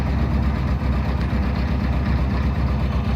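A 1990 Jeep Wrangler YJ with its 2.5L four-cylinder engine idles in neutral, a steady low rumbling pulse close by that runs evenly without revving.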